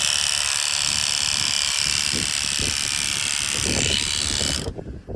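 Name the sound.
electric clippers trimming leg hair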